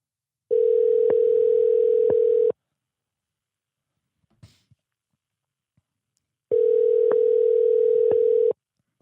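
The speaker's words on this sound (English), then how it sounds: "Is that my phone?" A telephone tone rings out in two steady, loud bursts of about two seconds each, separated by a few seconds of near silence with faint small noises; no one speaks.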